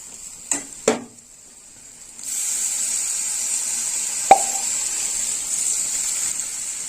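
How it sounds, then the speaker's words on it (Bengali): Two sharp clinks of a utensil on the pan come first. Water is then added to a dahi gobi mixture of cabbage, yogurt and gram flour in a hot pan, setting off a steady, close hiss broken by one more clink. "এবার একটু জল দেবো।"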